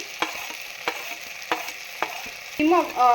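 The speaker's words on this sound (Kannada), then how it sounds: "ಟೊಮೆಟೊನು ಕೂಡ ಆಯಿಲಲ್ಲಿ ಫ್ರೈ ಆಗಲಿ ಸ್ವಲ್ಪ ಹೊತ್ತು." Tomatoes fry in oil for village-style pepper rasam, a soft sizzle punctuated by four or five regular sharp spatula knocks against the pan, ending in a brief burst of louder clattering, close with no voices.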